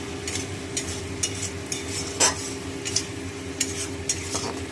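Spice paste for a katla fish curry fries in hot oil, a steady sizzle broken by occasional clinks and scrapes of a spoon stirring in the pan, with no voices.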